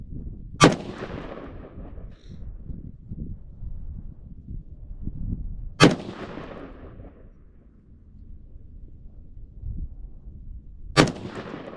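A 5.56 rifle firing 55 grain V-Max ammunition outdoors, three sharp loud shots spaced about five seconds apart over steady wind noise.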